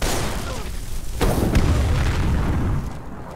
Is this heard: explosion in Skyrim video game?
yes